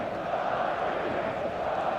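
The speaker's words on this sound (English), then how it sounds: "Such scenes here, a sea of team colours, songs ringing down from the stands." In an eFootball match, a stadium crowd sings as one broad, steady wash of many voices that holds at an even level from start to finish.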